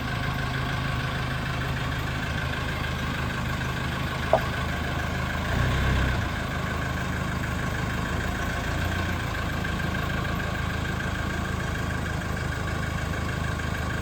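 A tractor's engine idles steadily nearby while positioning an oversized tiny home, a constant mid-pitched rumble with one brief clank partway through.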